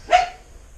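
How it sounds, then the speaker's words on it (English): A dog gives a single sharp bark indoors, a short loud burst that fades quickly into quiet. "You're gonna have to excuse the dog barking through this."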